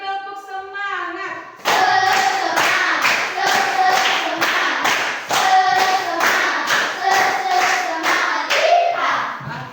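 Children in a classroom doing rhythmic spirit claps in sharp, loud bursts, grouped and repeated in quick sets of sharp slaps, with a chanting voice briefly heard before the clapping starts.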